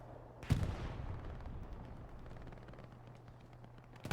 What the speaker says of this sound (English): There goes the AT cannon.